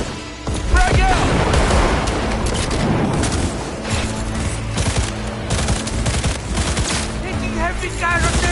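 A grenade blast erupts in a Cyberpunk 2077 firefight amid dense, continuous gunfire and machine-gun bursts, loud and chaotic, with shouted voices woven through the battle.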